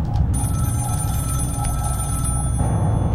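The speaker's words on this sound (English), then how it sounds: "I think the phone probably might be in the locker room somewhere." A telephone rings somewhere in a locker room in a fan-made Scream horror video game, a steady bright electronic ring running the whole time over a low droning ambience, fairly loud and close with no voices.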